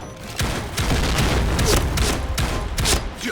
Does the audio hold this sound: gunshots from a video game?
yes